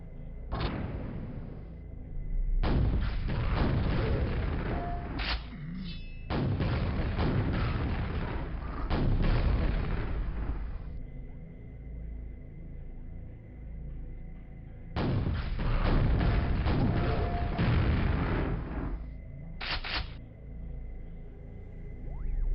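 Rocket launcher fire and explosions in the game Quake, with long heavy blasts and booming rumbles in several clustered bursts separated by brief quieter gaps, loud and close.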